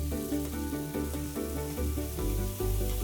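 Steady, loud sizzling as tomato is added to a frying seafood paella, a dense crackle that dips briefly then continues strongly, with no voices.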